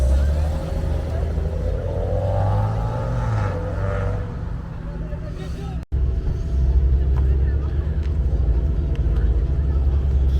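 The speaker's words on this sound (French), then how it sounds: "ce rouge Ferrari, tu reconnais tout de suite le design et la petite sonorité" Engine noise from a red Ferrari at a cars and coffee meet in Nantes, a steady low rumble of the idling car close by, with chatter from the gathering underneath.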